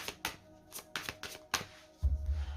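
A tarot card deck is shuffled and cut, giving a quick series of crisp riffling card flicks in an uneven rhythm, close and clear, ending in a brief low thump as the deck settles.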